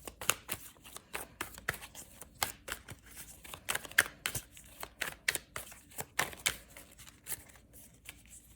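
A tarot card deck is shuffled close by, giving a steady run of quick papery riffles and snaps that come in short bursts for several seconds, with no talking.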